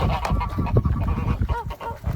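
A goose honks nearby in a series of short, nasal calls, loud and close, with no one speaking.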